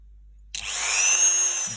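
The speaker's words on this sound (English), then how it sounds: "Then with my drill, I don't need to use a high speed." A power drill spins up suddenly on wood at low speed after a moment of silence, giving a loud, steady whine close by, with no talking.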